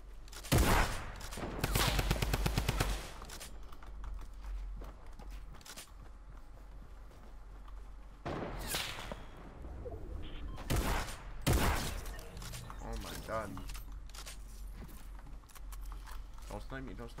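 Tactical assault rifle gunfire in a fast-paced video game comes in loud automatic bursts near the start and again around the middle, with quieter game noise, footsteps and keyboard clicks between them.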